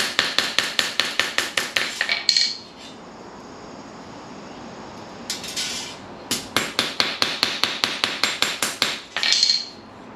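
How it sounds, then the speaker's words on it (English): A ball peen hammer beats a dented Razor 900 scooter part flat on a cement floor in a steady run of sharp metallic strikes, then a pause and another long series of evenly spaced blows, loud and close. "So I'm gonna try to flatten it out on the cement floor here. Just a ball peen hammer."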